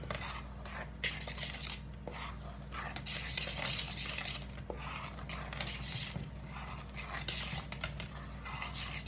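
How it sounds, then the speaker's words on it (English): A spoon scrapes and clinks faintly around a bowl while stirring lemon yogurt cake batter for a French yogurt cake, a quiet irregular rhythm with no talking. "I'm just going to stir this around"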